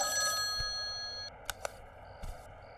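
A telephone bell rings in a Hindi TV drama, a bright tonal ring that stops partway, followed by a few short metallic clicks or clinks as the call is picked up.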